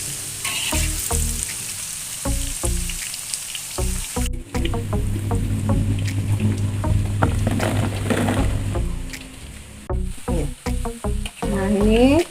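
Tempeh and other ingredients frying in hot oil, a loud, close sizzle broken by clattering stirs and sharp knocks, with a steady crackling stretch in the middle.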